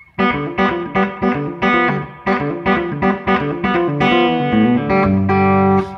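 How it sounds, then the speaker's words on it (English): Fast rolling banjo-roll picked notes on a distorted electric guitar, a bright repeating pattern that ends on a held chord. "It's a banjo roll."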